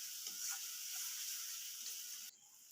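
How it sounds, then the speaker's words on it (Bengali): A pan of Bengali fish kalia masala hisses and sizzles steadily as sour yogurt is stirred in, with a few soft scraping stirs; it is faint and close, then drops quieter near the end. "এইভাবে মশলার সাথে টক দই মিশিয়ে নিতে হবে।"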